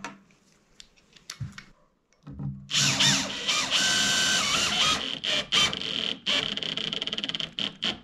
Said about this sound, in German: Und dann schraube ich erst einmal Ohrschrauben rein und schaue, ob das alles passt.